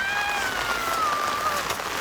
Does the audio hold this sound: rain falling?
yes